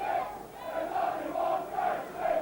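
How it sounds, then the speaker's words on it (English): A rugby league stadium crowd chants in a steady rhythmic pattern, the massed voices rising and falling in regular waves at a distance, filling the whole stretch without other sounds on top. "And the whole crowd chanting for Brian Smith"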